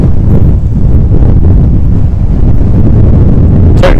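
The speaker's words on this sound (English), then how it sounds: "Craig, that's solid windy." Strong wind buffeting the microphone with a constant low roar while windsurf foiling, loud and close, no voices.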